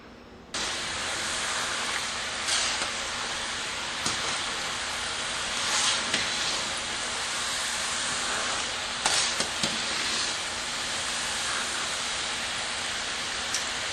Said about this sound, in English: I've turned up the heat, and then we can continue frying.